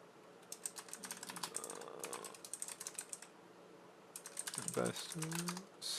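Quick bursts of typing on a computer keyboard as a username is entered, the keys clicking in uneven runs with short pauses, close and fairly clear, plus a brief low tonal sound near the end.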